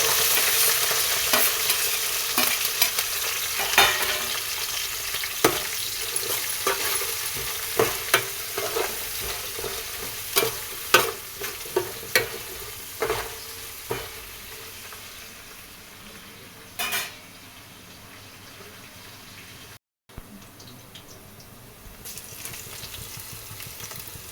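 Ginger and spices sizzle in hot oil for a village-style fish curry, with a crackling fry broken by repeated sharp stirring clanks that fade toward the end, heard close with no talking.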